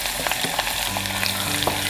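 Shallots frying in oil with fenugreek for a Kerala-style curry, a dense, steady close sizzle with scattered crackles and stirring sounds, without voices.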